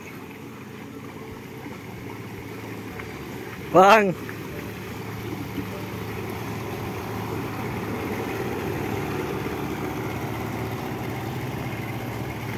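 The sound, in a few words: fishing boat engine at a jetty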